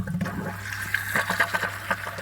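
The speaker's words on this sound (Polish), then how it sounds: "Woda też leci." Water from a hose on a Geko 230V electric water pump gushes steadily, a loud continuous rushing splash with small surging pulses over a low mechanical hum.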